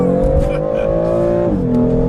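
A 2015 BMW M3/M4 turbocharged engine pulls hard under acceleration, a loud, close, rising drone that steps down at a gear change, heard from inside the car with a voice talking over it.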